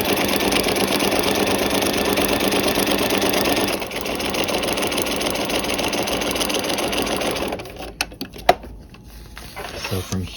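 A sewing machine runs in a fast, continuous whirring stitch while stay stitching chiffon to paper, loud and close, then stops and gives way to a few clicks and small handling sounds.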